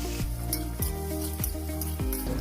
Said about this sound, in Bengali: এবং ভেজিটেবলগুলোকে খুব ভালোভাবে ভেজে নেব।